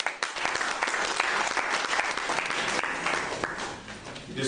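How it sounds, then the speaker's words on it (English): A church congregation at the Anointing of God Ministries in Innsbruck breaks into full applause, dense overlapping hand claps sustained loudly throughout without a break. "If you are blessed, I hear a clap up for Jesus."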